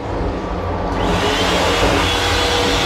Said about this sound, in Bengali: হ্যাঁ হ্যান্ড ড্রায়ারটা বেশ কাজ করছে